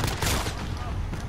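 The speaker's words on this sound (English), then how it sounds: "Let's try out the pistol now." Pistol fire in Call of Duty: Modern Warfare, a dense burst of loud shots packed into a second and a bit, with game noise throughout and no clear gaps between reports.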